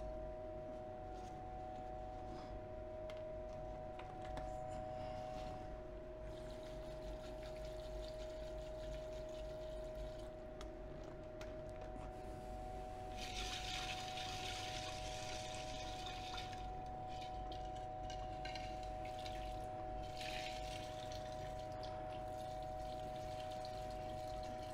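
Distilled water rinsing freshly cast silver from an electrolytic silver cell, a steady low wash of running and swirling liquid lasting the whole stretch, with brief brighter splashy surges partway through and no talking.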